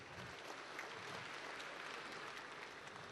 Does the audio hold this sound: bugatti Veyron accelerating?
no